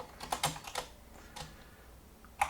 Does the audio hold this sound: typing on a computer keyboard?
yes